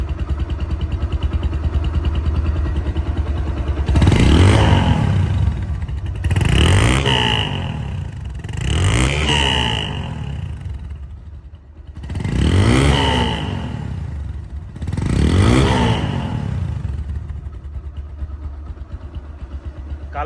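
A Bajaj Discover 135cc motorcycle engine runs after a kick start, idling with a steady clattering beat broken by five loud throttle revs that rise and fall at regular intervals, close to the bike.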